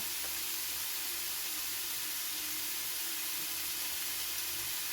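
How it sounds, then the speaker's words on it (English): Meat searing in a hot pan gives a steady, soft sizzling hiss that runs evenly throughout, with no talking over it. "obviously the searing is a little bit loud"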